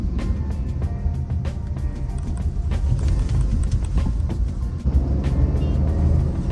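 A 2024 Maruti Dzire compact sedan drives along with a steady, low engine and road hum filling the cabin, punctuated by faint ticking clicks, with no talking.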